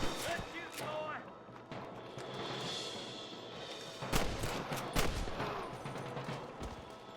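Gunfire in the video game Red Dead Redemption, a scattered volley of sharp shots with two loud cracks near the end, set against a constant background of game noise.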